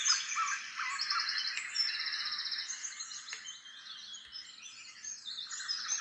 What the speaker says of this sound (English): This is singing birds.